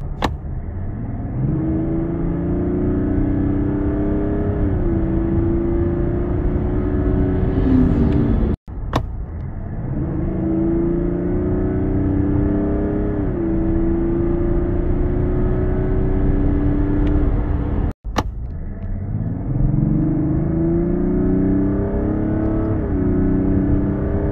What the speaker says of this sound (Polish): Auto ładnie przyspiesza, nie brakuje tutaj osiągów